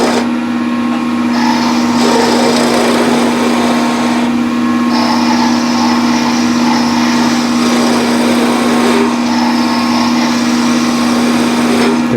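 Wood lathe spinning a ladle blank as a skew chisel cuts along the spindle, a loud steady motor whine with a constant hum and a rough cutting hiss that rises and falls in a few long passes, no talk.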